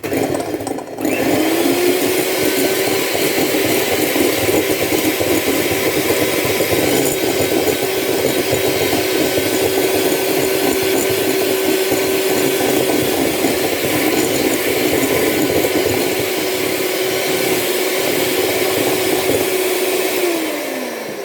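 An electric mixer whips macaron meringue with caster sugar, a loud continuous motor whine with a steady pitch holding for about twenty seconds before winding down at the end.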